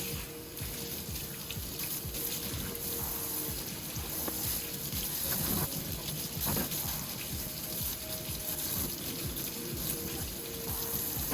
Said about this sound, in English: I'm going to now strain this pot to get all the parts out, and then we're going to vigorously wash everything.